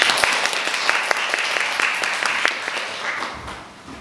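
An audience at a university academic and cultural festival applauds the attending professors, a dense burst of many hands clapping that holds steady and then tapers off over a few seconds.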